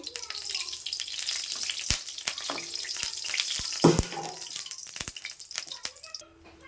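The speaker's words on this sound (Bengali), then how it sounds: "ফার্স্টে তো আমি একটু সর্ষের তেল দিয়ে দেবো কড়াইতে" Mustard oil poured into a hot kadai starts to sizzle and crackle steadily, with a few sharp clinks and knocks of utensils against the metal pan. A voice murmurs faintly in the background.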